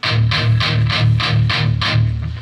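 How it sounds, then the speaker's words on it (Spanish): Electric guitar tuned to drop D, palm-muted and heavily distorted, chugs low downstrokes in a steady rhythm of about six even hits with a harsh buzzy edge, loud and close with no talking. "Con tu palma vas a mutear tu guitarra."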